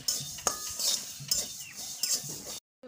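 Metal utensil scrapes and clinks in a pan while mustard, fenugreek, coriander and cumin seeds are stirred and dry-fried for oil pickle, a few sharp taps over a faint steady hiss, then silence.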